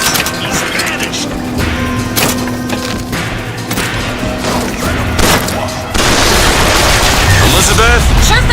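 Gunfire erupts in a chaotic BioShock Infinite firefight, dense bursts and booms layered over game music and effects, with brief character voices calling out amid the continuous loud shooting.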